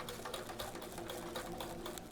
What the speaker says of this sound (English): you can hear that CO2 bubbling up through, which is a good sound